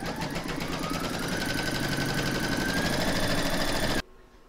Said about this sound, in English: You're now going to pop that into your machine and stitch round number one